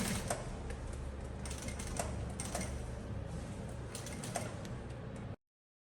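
A sewing machine stitches fabric for a girl's backpack, its rapid mechanical rattle running steadily and close with small bursts before stopping abruptly.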